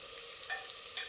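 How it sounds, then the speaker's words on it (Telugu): Ginger garlic paste with slit green chillies frying in hot oil for mutton gongura, a steady close sizzle and crackle with faint stirring, no voices. "పేస్టు పచ్చివాసన పోయే వరకు వేయించుకోవాలి."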